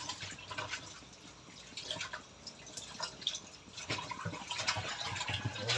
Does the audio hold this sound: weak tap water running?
yes